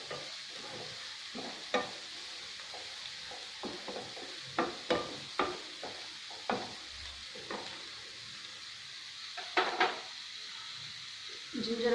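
Green chillies and curry leaves sizzle in hot oil for a prawn and mango curry, a soft continuous fry broken by sharp pops and spatters, with utensil scrapes of stirring at intervals.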